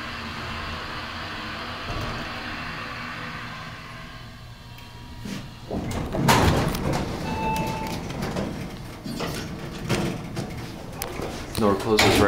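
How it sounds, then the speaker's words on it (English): An Otis hydraulic elevator door at a campus health center building slides shut with a rumbling, clattering run of knocks and thuds, fairly close and moderately loud after a quieter stretch of machine hum. "Door closes right away."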